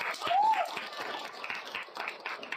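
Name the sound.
applause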